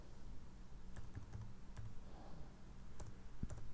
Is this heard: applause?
no